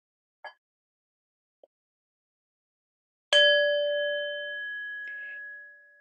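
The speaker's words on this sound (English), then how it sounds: "Finally, Grandfather rang the gong to end the meditation." A gong is struck once to end a meditation session, a bright metallic strike that rings out and slowly fades, preceded by two tiny faint taps in near silence.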